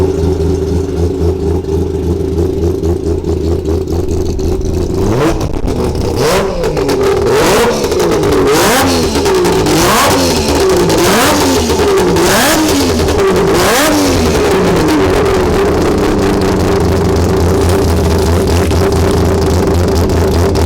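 A triple-rotor Mazda RX7 IMSA historic sports sedan race car idles loudly in the pits, then revs repeatedly in sharp rising blips before settling back to a rough, steady idle.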